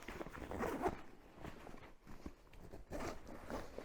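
Zipper on a Mystery Ranch 2 Day Assault Pack backpack being pulled open all the way, a few close scraping zip runs with short pauses between them, no talking.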